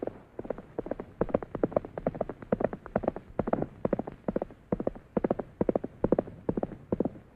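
Horse hooves clip-clop in a quick, steady rhythm from a 1944 black-and-white western film, with close clattering beats repeating throughout and no voices.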